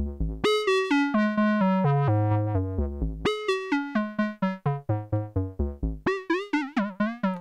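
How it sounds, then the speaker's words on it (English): Punchy synthesizer notes in a stepping sequence, a random LFO making pitch and brightness jump unpredictably from note to note; loud and steady, no voices. "Obviously you can go completely nuts with the random LFO"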